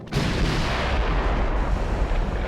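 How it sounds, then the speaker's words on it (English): Naval gunfire explosion in the Ultimate Admiral Dreadnoughts game: a sudden loud boom that swells into a sustained, roaring rumble, close and filling the whole moment with no voices. "terrible explosion."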